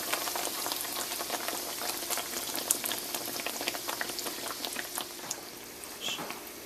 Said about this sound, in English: we're just going to gently pick this up and put it into the hot oil